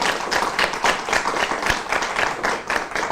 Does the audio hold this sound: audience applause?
yes